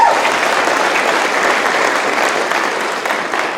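Thick, continuous clapping from the audience at a school concert, loud and even for the whole stretch with no pause.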